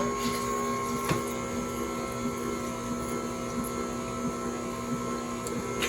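An Orfeld 1505 celery juicer runs with a steady motor whine and hum as pulp passes through, close and continuous with faint ticks.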